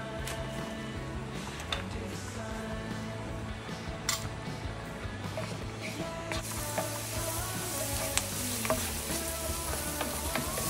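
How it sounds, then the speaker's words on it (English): Chopped onion sautés in a pan ahead of being added to beef, a continuous soft sizzle heard close up with light stirring and faint utensil clinks, no talking. "what I like to do first is I like to saute the onion and the garlic first before adding it onto the beef"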